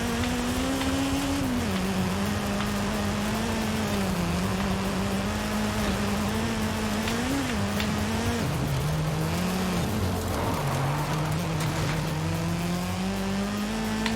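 A car engine in the racing video game Forza Horizon 5 holds a sustained drone that climbs and dips with the throttle as gears shift, with a brief tire squeal partway through and no talking.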